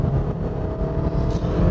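A Lexus IS200t turbocharged engine pulls hard under acceleration, a dense, steady rumbling drone heard from inside the moving car, fairly quiet and brief, with no talk.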